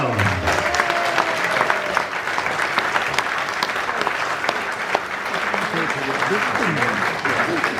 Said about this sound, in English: please give a big round of applause for Simon Round